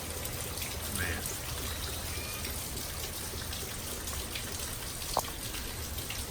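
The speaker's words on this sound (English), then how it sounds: "There's just so much rain." Steady rain pours down over a flooded vegetable garden, a dense continuous hiss of drops with one brief sharp tap near the end, no voices.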